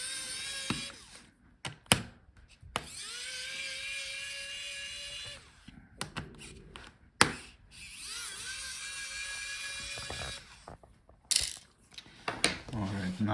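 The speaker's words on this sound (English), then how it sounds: "I will unscrew the opposite hinge right away because we're gonna be pulling the screen" An electric screwdriver whirs in bursts while removing hinge screws during an HP Omnibook 3 15 laptop teardown, with sharp clicks and taps of small parts between the short motor runs, close and fairly quiet.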